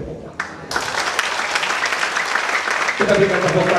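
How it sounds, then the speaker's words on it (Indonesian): Congregation applauding during a church sermon, broad steady clapping that swells after a brief quiet start, with a voice rising over the clapping near the end. "Kita berikan tepuk tangan"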